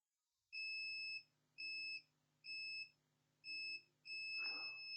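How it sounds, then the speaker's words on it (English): A multimeter in continuity mode gives five separate steady electronic beeps while probing capacitors on a shorted Toshiba Satellite Pro C850 laptop motherboard. The tones are clear and close against a quiet background with faint low hum. "all the capacitors, they are beeping."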